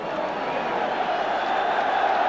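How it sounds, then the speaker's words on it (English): Football crowd at Arsenal v Leeds waiting for kickoff on a sunny day, a steady, fairly loud murmur of a large stadium crowd with no distinct cheers. "now the crowd is ready for the start"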